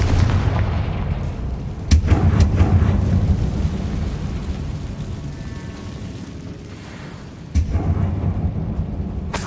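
Confringo explosive spell blasts in Hogwarts Legacy, two sudden booming impacts a few seconds apart, each followed by a rumbling roar, loud and close over a steady low background rumble.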